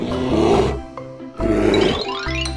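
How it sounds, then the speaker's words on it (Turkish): Two deep, growling roars from a bear, each swelling and fading, close and loud with a short pause between them. "Ayı."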